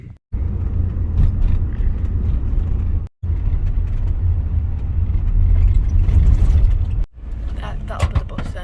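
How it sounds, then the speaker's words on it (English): A bus passing on a road in Scotland near the Quiraing: a heavy low engine rumble building and fading, with wind noise and brief gaps, people talking over it. "That'll be the bus then."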